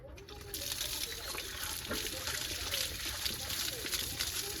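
Water gushes steadily from a tap, a continuous broadband hiss that starts after a brief quiet moment and keeps flowing evenly.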